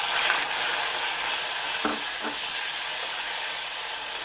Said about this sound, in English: We're just gonna let this fry for about 2 minutes